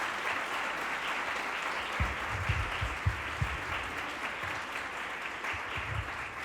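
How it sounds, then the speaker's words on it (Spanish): A parents' school audience applauds the speaker Pilar Velazco after her talk, a fairly quiet, even patter of many hands from a moderate distance, with a few louder claps close by near the middle. "un aplauso a Pili."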